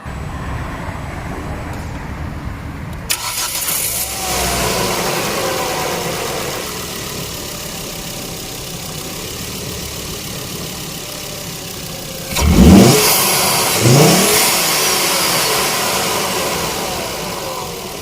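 A Ford S-Max engine idles at close range after a recirculation valve and boost control valve replacement, a steady mid-pitched hum that rises briefly with a couple of revs before settling back.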